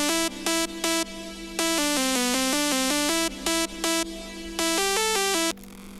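Future bass synth lead built in FL Studio from triangle and saw waves with noise, playing a bright stepped melody of short and sustained notes with gaps, clean and alone.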